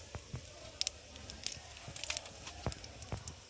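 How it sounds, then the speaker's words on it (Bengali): Bay leaf, whole cumin and a dried red chilli sizzle and crackle in hot ghee for a Bengali dal tempering, with scattered sharp pops and spits over a soft frying hiss, close and moderately quiet. "দিয়ে ফোড়নটা একটু ভালো করে ভেজে নেবো"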